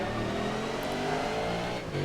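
V8 Supercar in TOCA Race Driver 3 accelerating out of a hairpin, a steady loud engine roar with rising harmonics and a brief dip as the gear changes, close and alone.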